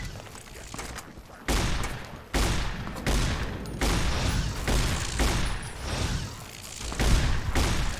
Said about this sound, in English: Fucking missile launcher.